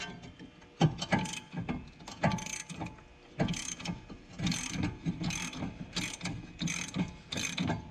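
Hand tool pushing the piston back into a BMW E46 front brake caliper with a broken dust boot, heard as repeated bursts of metallic ratcheting clicks in an irregular rhythm, close and fairly loud, with no talking.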